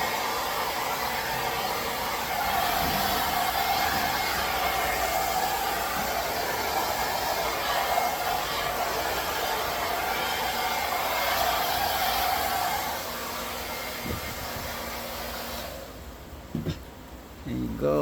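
A blower hums loudly and steadily, pushing poured paint across a repurposed 16x20 canvas in a Dutch pour, then cuts off near the end, leaving a few soft knocks.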